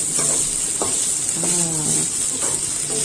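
Kelantan-style turmeric beef stirred and frying in a pan: a steady close sizzle with a bright hiss throughout, broken by several scraping strokes of a utensil against the pan.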